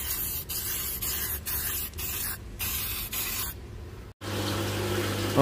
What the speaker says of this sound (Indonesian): Sudah saya semprot putih karena akuarium saya putih.